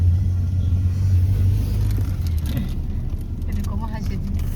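A car engine rumbles steadily while driving on a road in Hamirpur, Himachal, a deep continuous hum under people talking.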